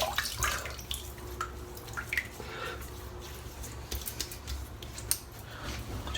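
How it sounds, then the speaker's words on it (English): A razor swished and rinsed in hot water during a wet shave with grapefruit shaving soap, giving soft intermittent splashes and drips close by, fairly quiet, with no talking. "Just put put the razor back in the hot water while I'm lathering it again"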